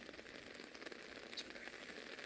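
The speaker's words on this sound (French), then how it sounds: "attendre que la pluie s'arrête et que le beau temps revienne" Rain falls steadily outdoors, a faint, even patter of drops on surfaces continuing throughout with no voices.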